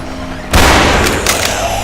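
A burst of gunfire from the video game The Forgotten Ones erupts suddenly after a brief quiet, with loud, dense shots and a couple of sharper cracks continuing to the end.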